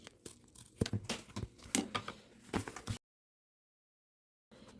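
A small piece of plastic being trimmed off, heard as a run of close, crisp tearing and crinkling bursts that cut off into silence and then resume briefly.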